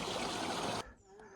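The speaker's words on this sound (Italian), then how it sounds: "Qua subito alla partenza c'è anche una bella fonte d'acqua" A mountain water spring at a trailhead in the Cadore area trickles and splashes in a dense, close wash that cuts off abruptly, leaving faint ambience.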